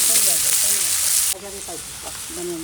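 Okra dropped into a hot pan in a home kitchen gives a loud, close hissing sizzle for about a second before it cuts off sharply, with a voice talking over and after it.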